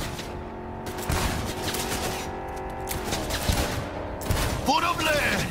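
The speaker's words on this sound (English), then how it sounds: "Seems like a shotgun and a pistol." Shotgun and pistol fire from the video game Cyberpunk 2077, played on PS5, with dense repeated gunshots over a noisy game soundtrack and a voice talking over it.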